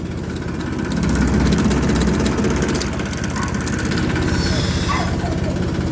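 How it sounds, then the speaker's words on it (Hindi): A loud tractor engine rumbles and chugs steadily nearby, with faint chirping or squeaks briefly rising above it. "दोस्तों ट्रैक्टर जोड़ के चल दिए हैं जी इसमें।"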